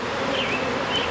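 Honey bees buzz densely around a hive during a beekeeping inspection, a close, steady, agitated drone with no voices.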